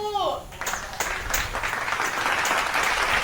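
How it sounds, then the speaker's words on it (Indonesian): Classmates applaud a student group after its presentation at the front of a classroom; a voice is briefly heard first, then a burst of many hands clapping continues steadily to the end. "Beri tepuk tangan untuk kelompok 1."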